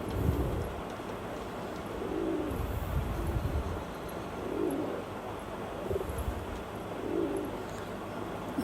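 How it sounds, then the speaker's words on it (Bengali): A male pigeon coos to impress his mate, a low, soft, rounded call repeating roughly every two to three seconds over a steady background hum. "অনেক ভালো একটা নর কবুতর। দেখুন কিভাবে ডাকতেছে"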